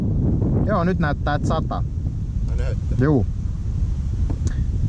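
Steady wind buffeting the microphone outdoors on a pike and perch fishing trip, a continuous low roar beneath intermittent talk.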